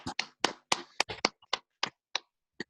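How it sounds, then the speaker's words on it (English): About a dozen separate, sharp claps from a small online audience ring out over a call, uneven and sparse, close to the microphone. "if you can give Adam a round of applause"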